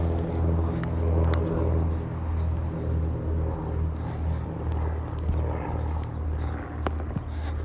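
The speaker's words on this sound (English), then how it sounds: "Let me just wait for this plane to go by." A propeller plane passes overhead near an air museum, its low, droning rumble steady and fairly loud, with scattered faint clicks and handling noises near the microphone.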